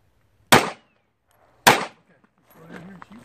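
Two sharp gunshots ring out at an outdoor shooting range about a second apart, each a loud crack with a brief decaying tail, followed by a short bit of quiet talk.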